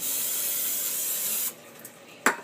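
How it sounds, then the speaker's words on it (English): Cooking spray hisses steadily into a pan for about a second and a half, then cuts off, followed by a quiet pause and a brief clunk. "And then I'll just go ahead and spray the whole thing."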